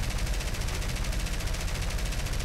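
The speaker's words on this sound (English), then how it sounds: "Engaging with the front guns now." Front machine guns of a Fairey Swordfish biplane in War Thunder firing one sustained rapid burst, a dense rattling stream of shots, loud and close, with no talking.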